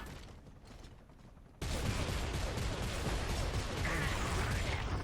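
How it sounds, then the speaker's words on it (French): Heavy machine gun fire in the video game Gears of War 2 bursts in suddenly after a quieter moment and hammers on loud and dense until the end. "C'est la grosse mitraillette."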